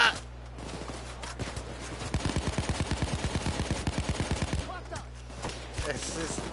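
A rapid run of about a dozen sharp gunshots from a first-person video game, evenly spaced and close, with short bursts before and after and a player's voice faintly in the background.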